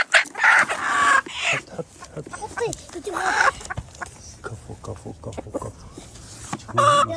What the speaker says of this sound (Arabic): يلا كسر الدجاج